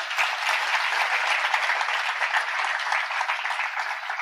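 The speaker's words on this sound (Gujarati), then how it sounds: "વધાવો, તાળીથી વધાવો." An audience at a religious katha discourse breaks into dense, even applause, many hands clapping together in a steady wash that holds without pause.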